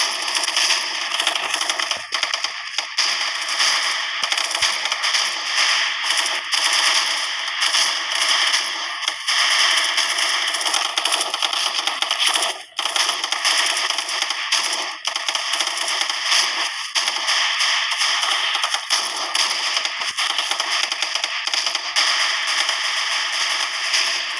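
An M16A1 sniper rifle in the Special Force video game fires amid continuous game audio, with dense, sharp cracking reports and clatter running loud throughout.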